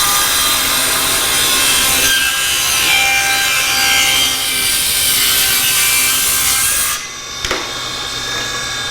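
A power saw rips a piece of maple flooring down to half-inch thickness, a loud continuous cutting whine through the wood that stops abruptly near the end, followed by a brief knock.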